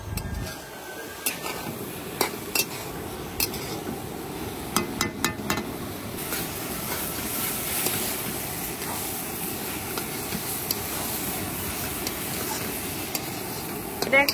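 Fried prawns stirred in a pan with spices, a soft continuous sizzle under scattered scraping and clinking strokes of a spatula against the metal.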